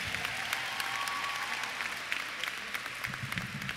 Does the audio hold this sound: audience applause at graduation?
yes